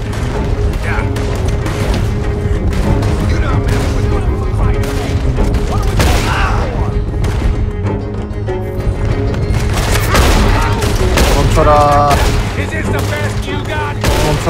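Gunfire erupts during a stagecoach robbery in the Wild West game Red Dead Redemption 2, with dense, repeated shots and booms running continuously under shouting voices and a steady musical score.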